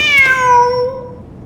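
A cat meows in a video game set among desert ruins, one clear drawn-out cry with a falling pitch that fades over about a second, loud and alone with no talk.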